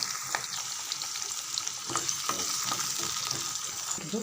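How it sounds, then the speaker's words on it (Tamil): Crushed garlic sizzles steadily in hot oil in a pan for a vegetarian curry, with a continuous crackling hiss and a few soft stirring clicks, close and moderately loud with no talking. "பூண்டு தோல் நீக்கி ஒன்றும் பாதியமாக தட்டி சேர்த்துக்குங்க ரெண்டு செகண்ட் வதங்கட்டும்"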